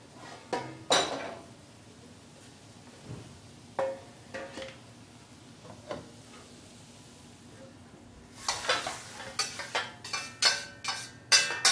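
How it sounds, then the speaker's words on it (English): Stew with cornmeal dumplings is spooned into a half-size metal hotel pan. Sharp scrapes and clinks of a utensil against metal come irregularly, then cluster more densely near the end. The sound is close, with no talking. "I will put this in half a hotel pan and then put it in the oven to bake"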